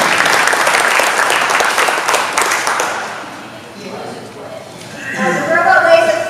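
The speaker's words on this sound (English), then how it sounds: "Let's give the kids one more round of applause." Loud applause and clapping from an audience for a high school robotics team, dense and sustained for several seconds, fading midway and then swelling again near the end.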